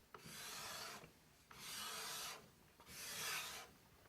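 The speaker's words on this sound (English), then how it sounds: "Gently bend the card scraper in the middle and tilt it forward slightly and run it across the wood" A Veritas card scraper, bent slightly and tilted forward, scrapes across a wooden surface in three long strokes, each a steady hissing rasp with short pauses between, close and clear with no talking.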